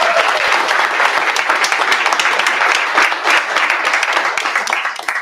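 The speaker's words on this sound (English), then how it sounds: "We can give them a round of applause." Audience at a school board of education meeting applauds steadily for about five seconds, a dense, even roomful of clapping that fades slightly at the end.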